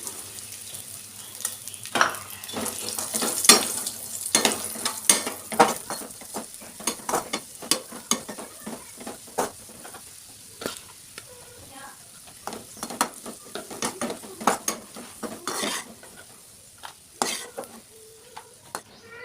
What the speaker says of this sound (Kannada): ಅದಕ್ಕೆ ದ್ರಾಕ್ಷಿನ ಹಾಕ್ತಿದ್ದೀನಿ.